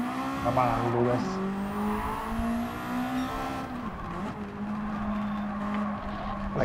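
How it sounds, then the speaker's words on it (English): A race car in Gran Turismo 7 drifts through a turn, its engine droning steadily while the tires squeal. A voice talks over the game sound. "My car drifts so much on that turn"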